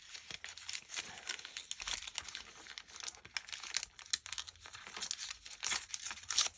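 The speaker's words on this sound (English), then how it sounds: "Just to put this paper on here. It doesn't want to go on easily." Music sheet paper being crumpled and pressed down during crafting, a continuous close crinkling and rustling with bursts of tearing-like crackle, no talk.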